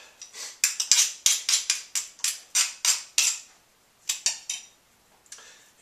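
Avocado mashed for guacamole in a bowl, heard as a steady run of about a dozen sharp, rhythmic taps and scrapes of the utensil, then a short pause and a few more strokes, close up with no talking.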